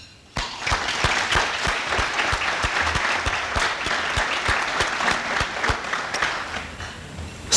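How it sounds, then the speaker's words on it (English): A dinner audience at a 2014 scholarship dinner breaks into sustained, dense applause for the students, many hands clapping steadily and filling the room for several seconds before it stops. "Please join me in applauding them."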